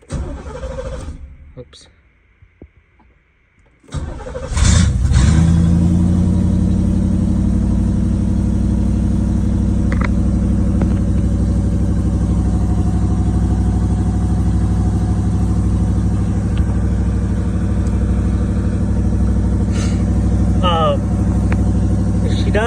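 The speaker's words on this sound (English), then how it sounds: "But the ignition switch does work now. But it's going to be cold start." A 1989 Chevrolet Camaro engine cranks and fires on a cold start after an ignition fix, then settles into a loud, steady, slightly high idle that runs continuously, with brief speech over it.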